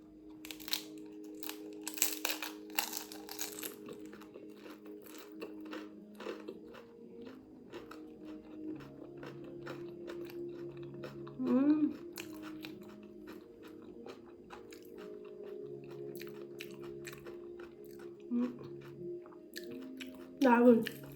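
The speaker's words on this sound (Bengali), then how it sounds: "কেটে এবার রেডি করেছি দই ফুচকা। খেয়ে দেখাচ্ছি," Someone eats doi fuchka topped with yogurt, sauce, bhujia, cucumber and onion, giving close, crunchy bites and chewing over a long stretch, with a few louder crunches and some speech.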